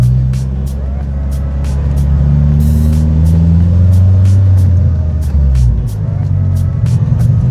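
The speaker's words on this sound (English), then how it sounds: "the turbo flutter" Opel Bertone Turbo Cabrio on stiff coilovers drives by with a steady engine drone that rises and falls, while repeated sharp fluttering chirps from the turbo punctuate it throughout.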